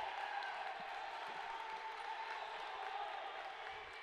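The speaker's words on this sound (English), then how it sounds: "Crowd's really getting into this, the Elsberry crowd." Spectators at a high school basketball tournament game between Elsberry and Christian HS cheer from a distance, a faint continuous crowd roar with scattered thumps beneath it.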